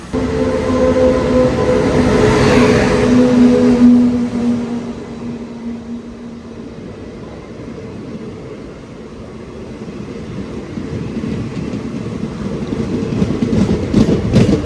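An old general-compartment train rolls along the rails from Thrissur toward Walayar, Kerala, with a loud, continuous rumble and faint rhythmic clatter, a steady hum fading in the first seconds.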